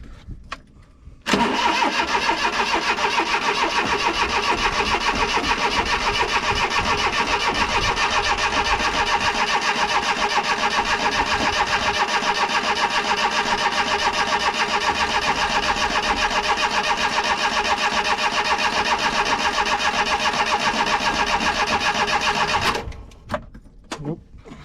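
A 1993 Daihatsu Hijet mini truck engine cranks on a dead, weak battery: a continuous, even starter whir held for about twenty seconds, close and loud, then cutting off abruptly.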